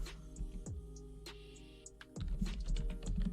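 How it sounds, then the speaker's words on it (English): Rapid computer keyboard clicks and typing bursts, close and fairly quiet, with a steady low hum underneath and a denser flurry of keystrokes toward the end. "I just know DBG's multitasking right here with all the clicks and stuff he's typing"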